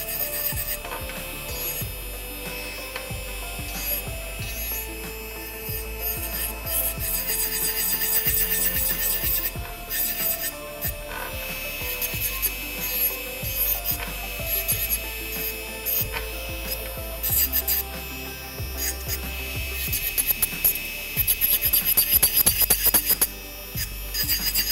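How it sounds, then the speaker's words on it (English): Carbide bit on an electric nail drill filing down pink powder coating on a fingernail, a steady close-up whirring rasp with grinding scrapes that swell louder toward the end, no talking. "Bây giờ em keep cái carbide bit parallel với cái móng ha. Rồi em từ từ đi."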